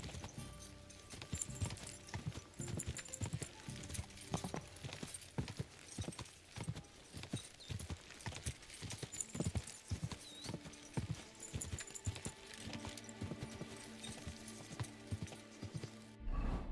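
Horse hooves clop rapidly and continuously in a quick gait in the video game Kingdom Come: Deliverance II, with a steady rhythm and no talk over them.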